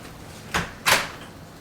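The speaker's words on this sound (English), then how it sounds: "She opens that door" A household door in a homestead kitchen opens with two quick knocks or clunks about a third of a second apart, the second louder, close by and with no talking.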